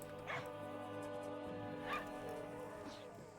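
Dogs in a video game's dog, cat and fox cafe give three short, spaced yips or barks over a steady tonal music bed.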